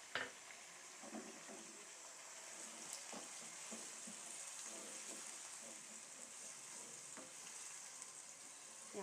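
Garlic-ginger paste and tomatoes sautéing in a pan for dahi gosht, a steady soft sizzle and crackle with occasional stirring clicks, faint and close.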